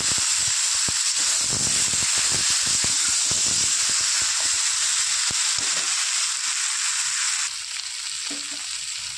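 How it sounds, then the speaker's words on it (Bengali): Masala for a rohu fish curry with beans, potato and lentil dumplings sautés in a pan, hissing loudly and steadily with spatula taps and scrapes throughout, the sizzle easing slightly toward the end. "বন্ধুরা কষানো প্রায় আমার হয়ে গেছে, আর একটু কষিয়ে জল দেবো।"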